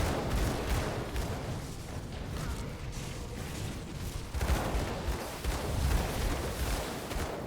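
Dense, continuous rapid gunfire from a Gunslinger character in Path of Exile shooting a totem's minions, a loud, unbroken barrage of shots and impacts with rumbling booms, no voices.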